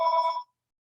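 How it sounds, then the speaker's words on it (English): A home telephone gives one short electronic ring, about half a second long, then goes silent. "I don't know why Mom's phone always has to start ringing when I'm on recording."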